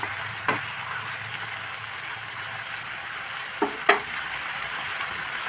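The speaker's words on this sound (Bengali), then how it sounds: "এবার আমি মাংসটাকে ভালো করে নেড়ে চেড়ে দিয়েছি।" Chicken meat for a Bengali-style curry fries in a pan while being stirred, giving a steady close sizzle broken by a few sharp scraping clicks.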